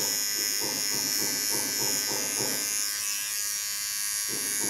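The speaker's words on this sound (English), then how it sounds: "Get it to my small clipper, also with ceramic blades." A small electric hair clipper with ceramic blades buzzes steadily and close, a constant motor whine with a slight pulsing texture, briefly easing off near the end.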